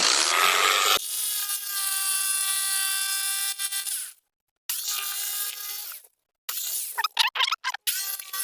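Rhythmic rasping strokes of a saw cutting through material, in a few bursts separated by brief silences, ending with quicker choppy strokes.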